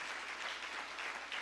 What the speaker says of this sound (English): Okay, now a round of applause,